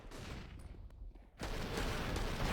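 Scout rifle shots from a professional Counter-Strike match, fired from a top box for a double headshot. A few sharp reports come first, then a short lull, then a louder burst of gunfire and clattering game noise.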